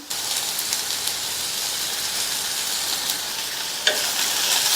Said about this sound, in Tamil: சேர்த்த வெங்காயம் பாதி அளவுக்கு வதங்கியிருக்கு.